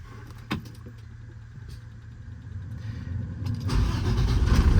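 A 2019 International MV607 truck with a Cummins diesel engine turns over and catches. A low idle rumble swells into a louder, steady engine drone, recorded close with no voices.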